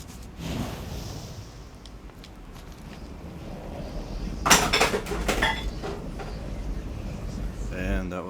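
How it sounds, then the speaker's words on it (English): A cat knocking dishes over at home, a sudden clatter of crockery and cutlery rattling for a second or two, heard behind fantasy game music and sounds, with speech also present. "that was my cat knocking over some dishes"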